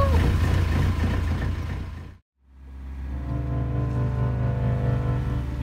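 Sailboat diesel engine idling after being restarted following a fuel-supply problem; a steady low drone that cuts out briefly, then builds back up to a continuous hum.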